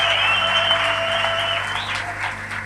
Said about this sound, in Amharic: If you are part of the body of Christ, አጨብጭቡና ጌታን አክብሩ።